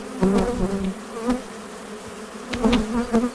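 Honeybees buzz close by at an open hive during queen handling, a dense steady drone with individual bees whirring past the listener in passing swells.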